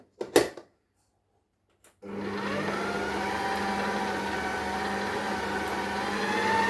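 A food processor running steadily at speed four while mixing çiğ köfte, a loud, even motor whir that starts abruptly after a couple of brief knocks and holds constant to the end.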